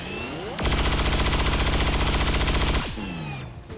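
Sustained automatic gunfire from the XCOM 2 video game, a loud, rapid burst lasting about two seconds, preceded and followed by a whooshing sweep and softer game effects.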